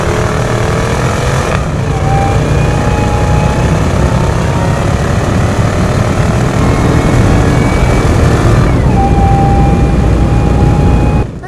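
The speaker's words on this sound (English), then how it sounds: "you hear that supercharger whine, which is really cool, which we're about to hear a little bit more of it" A 2002 Ford F-150 Harley-Davidson edition with a supercharged 5.4-liter engine and Eaton supercharger, heard from inside during a test drive: loud engine drone with a rising whine that climbs through gear changes.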